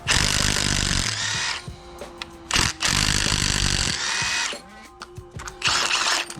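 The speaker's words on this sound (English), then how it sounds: "It's a whole bunch of 8 millimeter bolts. So take those guys out." Power tool spinning out 8 mm intake manifold bolts on a GM LS4 V8 in a Pontiac Grand Prix GXP, three loud, sustained whirring bursts broken by brief clicks and clatter between runs, close by with no talking.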